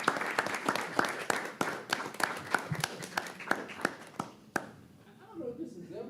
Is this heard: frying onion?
no